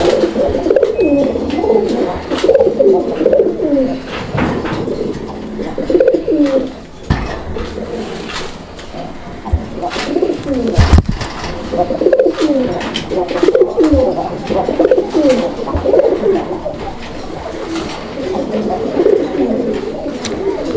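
Pigeons coo in repeated rolling phrases, close and fairly loud, with brief pauses between bouts and light clinking sounds in the background.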